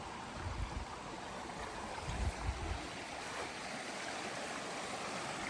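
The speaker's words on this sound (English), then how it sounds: "Wash house conveniently located right next to the stream." A stream flowing right beside a wash house, a steady broadband rush of water with a few low rumbles early on, continuous and moderately distant, no voices.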